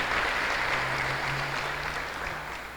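A church congregation claps together in a sustained round of applause, fairly soft and distant, slowly fading, with a low steady hum beneath.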